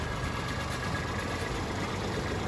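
A Kubota B2440 4WD tractor with a sugarcane guard frame, its diesel engine idling steadily at close range, a constant low rumble with no talk over it.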